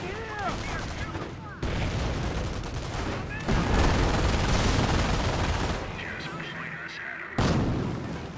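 Mortar fire and other battle noise from the World War II strategy game Company of Heroes: heavy booms and dense gunfire-like bursts fill the scene continuously, with a voice talking over the action.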